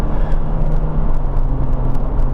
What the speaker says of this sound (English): And that's this exhaust, this set of cannons strapped to the back of this car